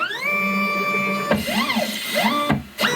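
EufyMake E1 UV printer running its automatic laser height measurement, a steady motorised whine with rising and falling sweeps and a brief pause, loud and close with no talk.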